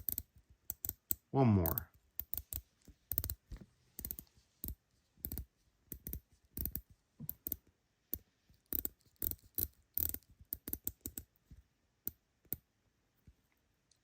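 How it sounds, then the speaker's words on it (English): A Citizen Promaster Aqualand JP2007-09W dive watch bezel being turned, giving crisp rapid clicks in short bursts with pauses between, close up, with someone speaking briefly. "Bezel action, y'all."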